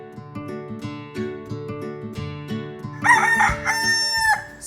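Free-range chickens cluck in rapid, overlapping bursts near an improvised farm chicken coop, then a rooster lets out a loud, close crow that carries to the end.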